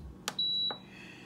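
Power XL air fryer beeping as its timer button is pressed: a short click followed by one clear, steady electronic beep lasting about half a second, close and alone.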